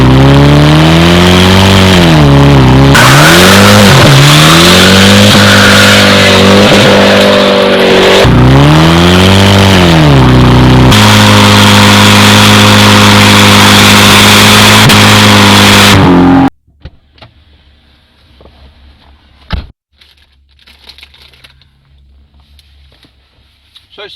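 A supercharged 4.2 V8 Jaguar XJR is floored from close range, the engine revving hard through several rising gear pulls with a tyre-spinning roar. It then cuts to near silence with faint scattered knocks.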